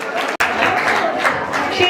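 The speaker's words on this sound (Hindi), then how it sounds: "बैठे हुए ताली बजाएंगे" An audience at a Jain festival cultural program in a Delhi temple claps steadily, a dense patter of applause with crowd murmur and a speaking voice over it, broken by one sharp thump.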